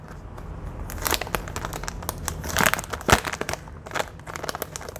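Paper scraps, apparently Kmart-brand, being run through a Sizzix Big Shot Switch Plus die-cutting machine, with close crinkling and crunching as the paper gets pressed, plus a few sharper crackles in the middle.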